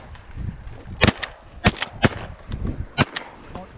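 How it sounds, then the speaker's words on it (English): Shotgun blasts during a rainy-day duck hunt in Arkansas, several sharp reports spaced irregularly, some near and loud and others softer and farther off, over rain and outdoor ambience. "y'all are shooting"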